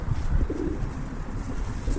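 Pigeons or doves coo softly in the background under a steady low rumble of outdoor noise. No one talks.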